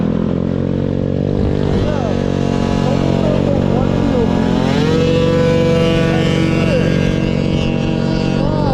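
A 150cc moped engine revs hard and rises and falls in pitch as the rider pops wheelies, a loud, close, buzzy whine sustained throughout.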